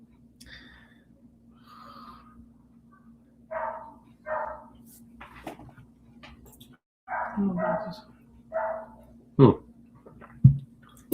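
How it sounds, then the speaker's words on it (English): A neighbour's dog barks in short, separate bursts at moderate distance, with a few louder close yaps near the end over a steady low hum. "It's our neighbor's dog."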